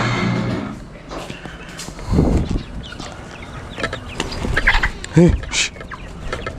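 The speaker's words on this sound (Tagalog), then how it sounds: "Mga manok nagliliparan." Farmyard chickens cluck and flap their wings as they flutter around at close range, with scattered bursts of clucking through the clip while a person briefly shushes them.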